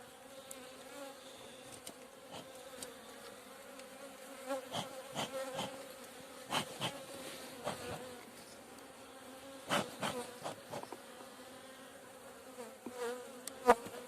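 Anatolian honey bees hum steadily at an open hive, a dense continuous insect drone with occasional louder close passes and brief knocks, no voices.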